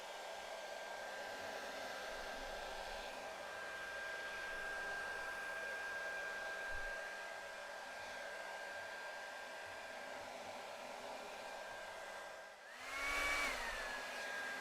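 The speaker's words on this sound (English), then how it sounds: "You've just caught me there using my daughter's hairdryer." A household hair dryer blows steadily at close range while drying a handmade ukulele kit body, a faint continuous whine and airflow that shifts briefly near the end.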